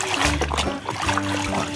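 Water splashes and trickles over muddy toy cars being washed, a close, steady wet rinsing with brief dribbling pauses.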